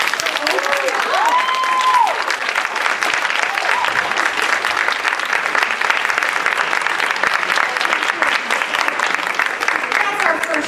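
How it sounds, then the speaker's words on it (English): A theater audience at a new play festival applauds loudly and steadily, a dense wash of clapping that continues throughout, with a few faint whoops near the start. "Let's give a round of applause for Oprah."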